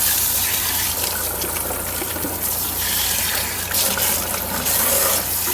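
Lukewarm tap water gushes steadily into a container, a loud, continuous rushing splash close by with no talking.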